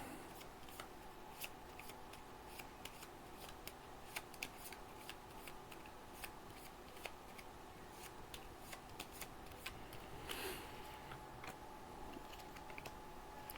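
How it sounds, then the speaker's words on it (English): Soft, steady riffling and clicking of cards being shuffled during a G.I. Joe deck-building board game, quiet and close, with a brief louder flurry partway through. "Shuffle up my discard pile."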